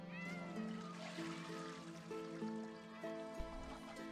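A cat meows several times in drawn-out, tonal calls that rise and fall over a steady low background hum, fairly close and moderately loud.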